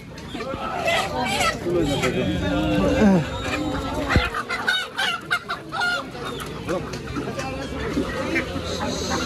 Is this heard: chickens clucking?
yes